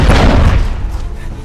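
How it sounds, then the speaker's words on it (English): A heavy, close booming shot in the video game RoboCop: Rogue City, followed by a fading rumble. "Just keep shooting"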